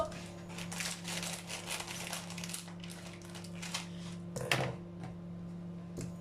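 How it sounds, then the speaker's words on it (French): Plastic food package being cut open with scissors in a home kitchen, giving a run of crinkly snips and rustles at moderate loudness with a sharper crackle near the end, under quiet room hum. "Je vais ouvrir le paquet."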